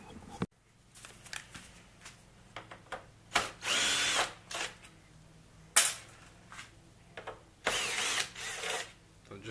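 Electric screwdriver drill working on the metal fender flange of a Subaru Forester, a series of short ratcheting whirs and longer spinning bursts separated by pauses, close and fairly loud.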